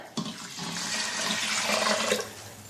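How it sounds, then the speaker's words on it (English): Water is poured into an Instant Pot of white rice with salt and butter, making a steady, close rushing splash that lasts about two and a half seconds with no talking. "So add the water in"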